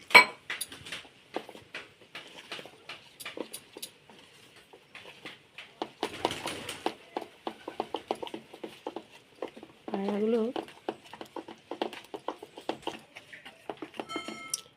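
Gram flour (besan) and water being whisked in a bowl for a spinach dish, a run of quick clinking, scraping strokes against the bowl, near and moderately loud, with someone talking over much of it.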